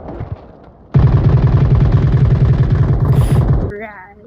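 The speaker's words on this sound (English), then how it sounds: "I didn't hear it because of the gunfire." Sustained automatic gunfire rattles loudly at a shooting range, a rapid unbroken burst lasting nearly three seconds after some faint voices, then cutting off into quieter sounds.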